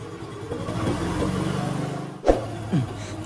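A motorbike being kick-started in an office parking area, its engine failing to catch: a rough, low sputtering drone runs for about two seconds, then a sharp mechanical clunk and a couple of brief uneven bursts.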